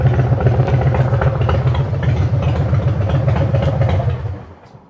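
A motorcycle fitted with a Stage 1 exhaust rumbles loudly on a night ride, a deep, throbbing low pulse that holds for about four seconds before fading out.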